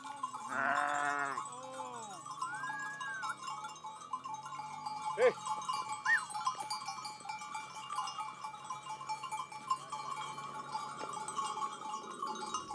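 Bakhtiari sheep bleat near the start, a cluster of wavering calls in the first few seconds, followed by quieter ambient sound and faint calls further off for the rest.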